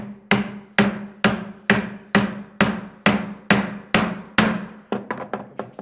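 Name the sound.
chisel being struck to cut a mortise in wood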